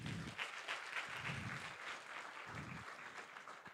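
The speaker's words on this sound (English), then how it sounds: "Just give them a round of applause." A faint, distant wash of audience applause fills a conference hall at an HR event, steady and even throughout with no single claps standing out.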